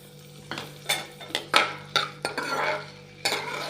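Chopped onions hit hot oil in a pan for a potato curry, giving a soft sizzle under a series of sharp spatula clinks and scraping stirs against the pan.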